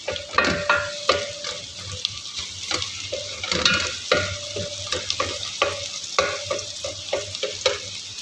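Garlic sizzles in a pan for sautéed squash and string beans while a spatula stirs it, giving rhythmic metallic scrapes and clinks over a constant frying hiss, close and clear with no talking.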